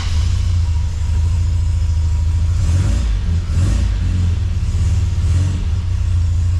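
An MGB sports car engine, fitted with a new 123 electronic ignition distributor, idles steadily just under 1,000 rpm right after starting, a loud, close, continuous low rumble with no talk.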